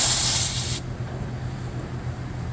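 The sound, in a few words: purging refrigerant hose, gas hissing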